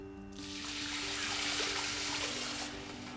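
Chicken stock and water pour into a pot of basmati rice, a steady splashing rush that swells for about two seconds, then tapers off. A low hum sits underneath.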